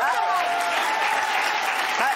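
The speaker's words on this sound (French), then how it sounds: "Le public a applaudi Jean-Michel, Gilles" Studio audience applauding on a French TV talk show set, a short burst of steady clapping with a voice speaking over it.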